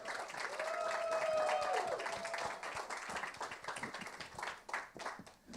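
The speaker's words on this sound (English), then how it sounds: "Give them a big round of applause" Audience applause for guests at a film music panel, a room of people clapping steadily that tapers off toward the end, with a faint tonal sound drifting through early on.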